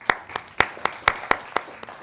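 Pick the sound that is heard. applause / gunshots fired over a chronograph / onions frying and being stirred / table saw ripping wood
applause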